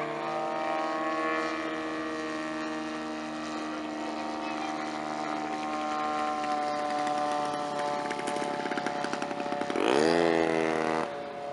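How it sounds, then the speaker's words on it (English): A 60% scale Hempel Cub RC plane with a twin-cylinder 3W275 engine drones steadily overhead at an air show, moderately loud, then surges into a sharp rising whine near the end as throttle comes up. "3W275 engine, twin cylinder. Sounds good, not obnoxiously loud."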